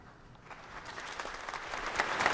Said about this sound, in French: Et vous entendez les applaudissements, le pape François arrive dans la cathédrale